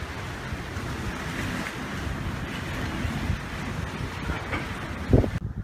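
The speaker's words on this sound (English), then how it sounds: "A little windy out here on the ocean today." Wind and ocean waves rush past a cruise ship at sea in misty, rainy weather, a steady roar with buffeting wind noise on the microphone and a brief thump near the end.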